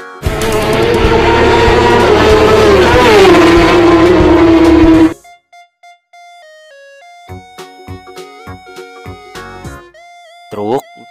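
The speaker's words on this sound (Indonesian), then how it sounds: "Motor balap." A racing motorcycle engine roars loudly and revs for about five seconds before stopping sharply, leaving sparse musical blips and tones.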